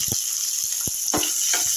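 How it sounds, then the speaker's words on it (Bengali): Chopped onion fries in oil alongside green chillies in a pan, giving a steady high sizzle broken by several short pops and occasional stirring scrapes, close and moderately loud. "পেঁয়াজটা একটু ভাজা হয়ে গেল"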